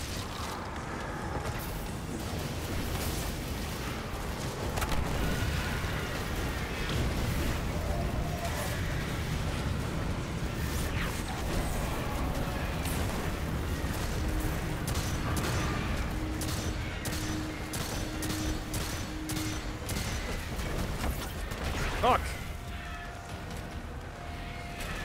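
Shotgun blasts in Destiny 2 during a solo dungeon run, a dense barrage of repeated booming shots with clanking weapon mechanics and scattered game effects, continuous and loud throughout.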